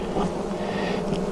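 Bees at an opened beehive during a May hive inspection, a steady close humming buzz from many insects filling the whole stretch without pauses or voices.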